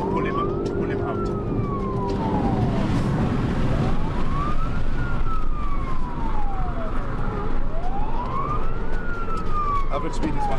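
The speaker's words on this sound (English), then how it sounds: "I'm going to put in my blue lights on and the siren to pull him out." A police siren wails in long rising and falling sweeps, three full cycles, loud and close over a steady rumble of road and engine noise.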